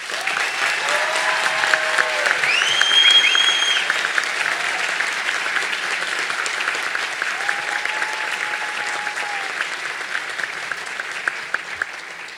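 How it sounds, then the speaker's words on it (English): Sustained applause for graduates at a university commencement ceremony in Texas, a large crowd clapping steadily for over ten seconds, with a few cheers and whistles rising above it early on. "Please give a final round of applause for all of our graduates."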